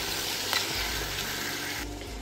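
Chicken cooking in a covered pan over a medium-low flame, giving a steady, close sizzle and frying hiss that continues evenly with no talking.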